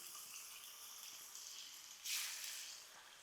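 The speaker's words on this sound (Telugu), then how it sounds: "ఈ ఉసిరికాయ ముక్కల్ని ఇలా నూనెలో వేసి లైట్గా కొంచెం కలర్ వచ్చేంత వరకు వేయించండి" Amla (Indian gooseberry) pieces fry in sunflower oil with a faint, steady sizzle that swells briefly halfway through, then settles.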